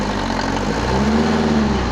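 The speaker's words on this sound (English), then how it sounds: "accelerate the engine as well" A Mercedes-Benz W124 engine is revved during a radiator hose change, giving a loud, close, continuous engine roar with a slight rise in pitch partway through.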